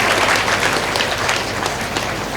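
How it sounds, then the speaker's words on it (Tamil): Audience applause for temple priests at a kumbabhishekam celebration debate event, a dense, steady wash of many hands clapping throughout, loud and close with no talk over it. "அவங்களுக்கு ஒரு நல்ல கைத்தட்டு கொடுங்க."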